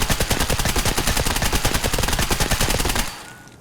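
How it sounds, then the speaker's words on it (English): Full-auto bursts from an AK-74 in the shooter game Escape From Tarkov: a rapid, loud, close, evenly spaced stream of shots that runs for about three seconds, then cuts off into a fading echo. "we'll go ahead and do some full auto bursts, and I'll show you how controllable it is"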